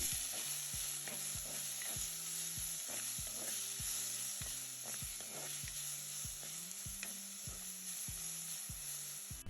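Chopped ginger, garlic, red onion, green chili and tomato frying in oil for an egg curry, with a steady sizzle and a spoon scraping the pan in regular strokes throughout.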